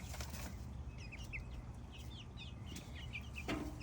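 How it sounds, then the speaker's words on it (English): Farmyard chickens cluck in short bursts and flap their wings now and then, fairly faint and at a middle distance over steady outdoor background noise. "Let's go catch that chicken."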